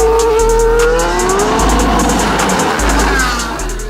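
A race car tearing along at about 200 miles an hour, its engine roaring loudly and steadily throughout with rising and falling pitch as it shifts, close and continuous with no talk.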